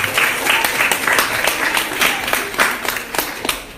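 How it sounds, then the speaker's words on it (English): Audience at a town division spelling bee contest clapping for a runner-up, a dense, loud, continuous round of applause from many hands lasting throughout. "Yes, give another rousing round of applause"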